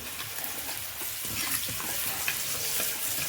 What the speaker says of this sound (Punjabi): ਮੈਂ ਤੇ ਸਾਗ ਨੂੰ ਤੜਕਾ ਲਾਉਂਦੀ ਸੀ